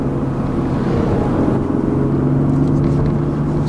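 A 2020 Toyota GR Supra cruises on an open road with a steady engine drone and low tyre and wind rumble inside the cabin, even and unbroken.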